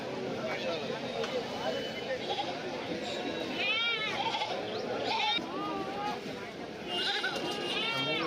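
Goats bleat repeatedly over a busy festival goat market crowd in Kerala, several calls rising above steady background chatter and murmuring voices.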